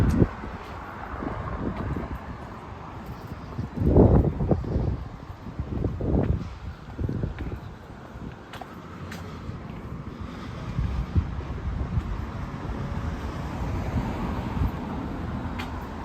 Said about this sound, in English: Now I'm walking against the wind.